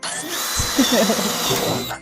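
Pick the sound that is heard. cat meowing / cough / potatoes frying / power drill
power drill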